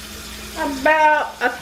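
Water is poured into a shrimp sauté pan in a home kitchen, a short splashing rush that lasts about a second, with one brief spoken word over it.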